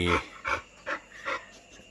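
A pit bull pants at close range indoors at night, four breathy, evenly spaced huffs in a steady rhythm with no talk over them.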